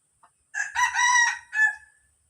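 A single rooster crows once, a clear, close cock-a-doodle-doo ending in a short second phrase, with quiet around it.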